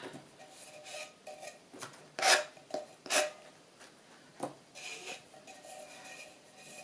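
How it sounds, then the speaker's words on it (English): Sandpaper rubbing over a decoupaged tin can, a series of soft rasping strokes with two louder scrapes in the middle, close and quiet with no talking. "Sand off any bits like this."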